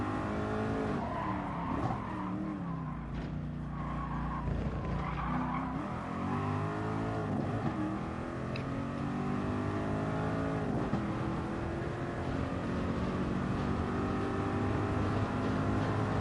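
A race car in Gran Turismo Sport accelerates hard through its gears, engine whine climbing and dropping with each shift, loud and continuous with tire squeal and no talking.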